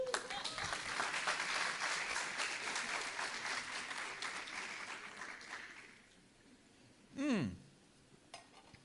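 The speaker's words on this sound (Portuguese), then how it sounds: "Uma salva de palmas para Jesus, gente." Audience applause at a religious teaching class fills the first six seconds, a broad wash of clapping that fades out, followed by a brief voice and a sharp rising vocal sound.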